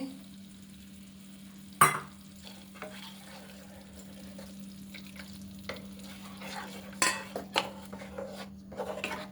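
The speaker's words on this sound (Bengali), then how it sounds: "এবারে মশলাটার সাথে ভালো করে মিশিয়ে নেবো সর্ষে পোস্তটা" A spoon stirs ground mustard-poppy paste into spices in a pan, giving soft scraping and clinks with a few sharp knocks against the metal. A steady low hum continues underneath, and nobody speaks.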